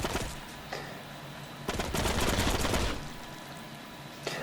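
A gun in the video game Heroes & Generals fires a rapid automatic burst of just over a second, sharp and close over a steady background hum, with no talk.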